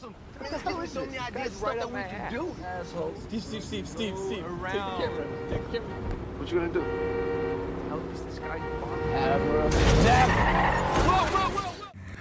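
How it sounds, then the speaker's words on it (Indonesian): A car horn honks repeatedly at people walking in the middle of the road, sounding in short tonal blasts beneath continuous talk, with a louder rush of vehicle noise near the end. "mobil yang terus mengklakson mereka yang berjalan di tengah jalan"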